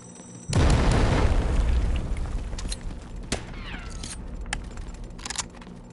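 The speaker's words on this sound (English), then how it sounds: "Grenade on the way." A grenade explodes in the video game Delta Force on PS5 with a sudden loud, deep boom. A long rumbling tail follows, and faint metallic clatter sits beneath it.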